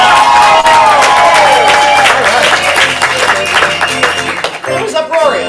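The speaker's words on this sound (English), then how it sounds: "I want you to hit an uproarious level of applause" A large improv comedy audience applauds and cheers loudly, a dense wash of clapping and shouting that carries on and fades slightly near the end.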